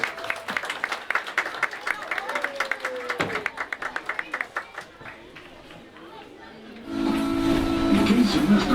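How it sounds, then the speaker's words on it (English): Audience at the Tweetsie Railroad western show applauding the cowboy and cowgirl performers, brisk clapping with chatter that thins out and fades, followed by a louder steady rumble of the steam train. "how about a big old round of applause for the Tweetsie Cowboys,"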